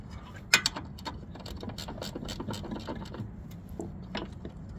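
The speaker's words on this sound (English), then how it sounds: "only good thing is that I have ratchet spanners, which means I don't have to be taking it off" Ratchet spanner clicking while rebuilding a VW Golf Mk6, a sharp tick at the start followed by a steady run of light mechanical clicks, close and moderately quiet with no talk.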